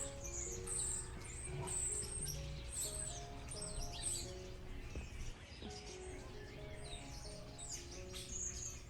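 Birds chirp and tweet in a lively, overlapping chorus at a small zoo inside a Paris botanical garden, faint and steady against soft outdoor background noise.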